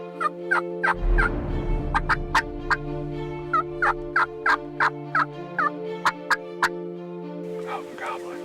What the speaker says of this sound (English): more turkeys gobble